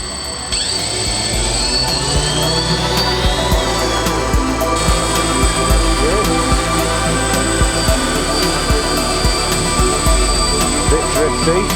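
A DJI Phantom FC40 quadcopter's brand-new propellers spin up into a steady high whine and buzzing drone as it lifts off and flies nearby, with someone talking over it.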